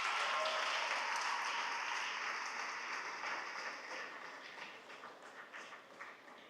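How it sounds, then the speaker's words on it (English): An audience at a school program celebrating 50 years of girls claps in a broad, steady wash of applause that slowly fades toward the end. "Let's just give another round of applause for Pauline."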